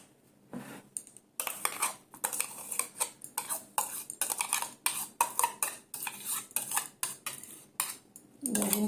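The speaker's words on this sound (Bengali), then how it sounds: "আগে আমের মন্ডটাকে মিশিয়ে দেখি কতটা পাতলা হচ্ছে" Mango pulp stirred into malpua batter with a spoon, a run of quick, close, rhythmic scraping and clinking strokes against the bowl, with no talk.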